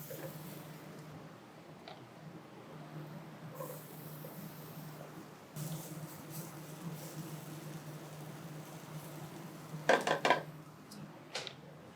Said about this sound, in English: what we're going to do is add in our apples so we can cook those off